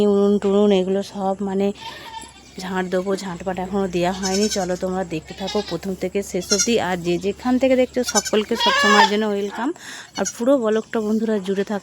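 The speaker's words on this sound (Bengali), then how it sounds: "আর এই ছাগলগুলো দেখো কী করছে দেয়ালে" Goats bleating repeatedly on a West Bengal village homestead, loud and close, with someone talking over them through most of the stretch.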